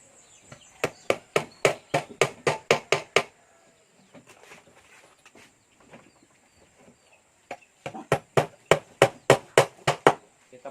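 Rapid, sharp hammer blows drive nails into wood while building a stingless bee box, in two bursts of about a dozen strikes each, separated by a quieter pause with faint rustling, close and loud.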